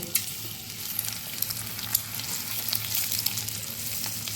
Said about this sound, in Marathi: थोडंसं खालच्या साईडने पण आता आपण भाजून घेऊया